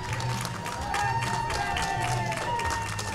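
A roller derby crowd applauds and cheers for the Cincinnati team, a steady, dense wash of clapping and voices throughout a large venue.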